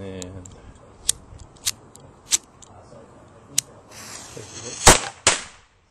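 Toy firecracker cannon being readied and fired: several sharp clicks and snaps, then a hissing fuse and a loud close bang followed by a second pop.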